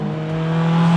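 A Honda Integra Type R DC5 with its K20 engine drones loudly and steadily up close, the pitch climbing slightly over one brief second.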